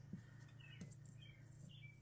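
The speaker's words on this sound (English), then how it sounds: "y'all hear that little bird out there? He is just a happy little thing this morning." A small bird chirps outdoors on a quiet morning, a few faint, brief tweets scattered over a low steady hum, distant and soft with no talking.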